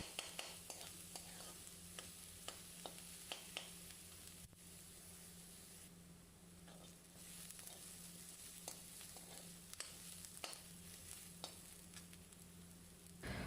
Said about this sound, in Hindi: इसमें ऐड ऑन किए अपने चॉप किए हुए अनियंस एंड इसे हमें काफ़ी देर तक अच्छे से सॉटे करना है